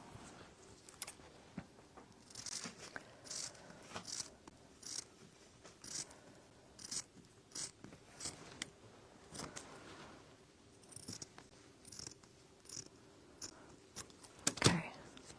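Scissors trimming a small paper transfer for drop cloth canvas art, giving a string of soft, close snips and paper rustles in an irregular rhythm, with a sharper click near the end.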